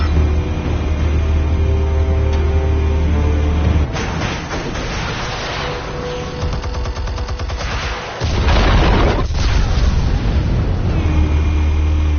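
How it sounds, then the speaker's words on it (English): Explosives detonate in a loud, heavy burst of blasts and crackling debris that swells in the middle, set against a deep, steady rumble before and after. "Explosives armed. Fire when ready."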